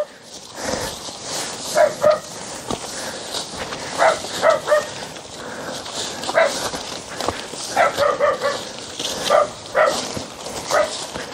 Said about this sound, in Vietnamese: Ở nhà nghe tiếng chó sủa.